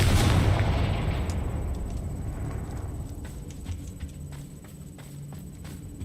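A Confringo blasting spell goes off in the Hogwarts Legacy video game, a loud explosive burst at the start that decays into a long, rumbling tail with scattered crackles.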